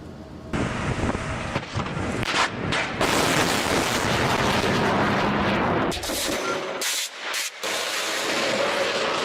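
Cheongung-2 surface-to-air missile launching during live-fire training, a loud roaring blast with a sustained rushing, wind-buffeted rumble that dips and breaks into bursts near the end.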